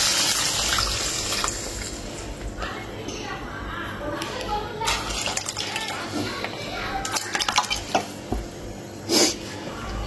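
Lentil water poured into a pot while sambar cooks, a continuous close splashing gush in a home kitchen, with faint clinks of utensils and background voices and household noise.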